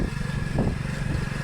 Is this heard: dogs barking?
no